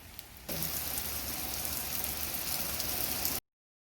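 Steady rain patters on a surface, starting abruptly after a quiet moment and continuing evenly at moderate loudness before cutting off.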